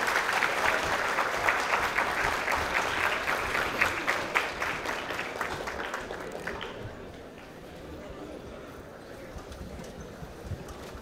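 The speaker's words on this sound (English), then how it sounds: "let us have a round of applause for our chief guest, Dr. Sanjeev Sanyal, sir." An audience applauds a chief guest at a university event, a dense burst of clapping that fades and thins after about six seconds, with faint scattered claps and murmurs trailing on.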